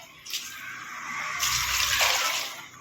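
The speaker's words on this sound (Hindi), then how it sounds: "आप देख सकते हो मैं पानी डाल रही हूँ।" Water poured from above into a cooking pot holding three cut tomatoes, a steady splashing gush that builds and grows fuller before easing off near the end.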